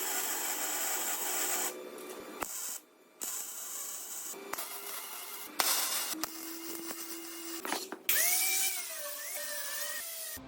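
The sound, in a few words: grinding steel parts for a truck flatbed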